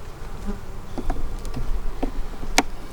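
Honey bees buzz densely around an open, agitated hive during fall feeding, a loud continuous drone close by with individual bees zipping past the microphone and a few faint knocks underneath.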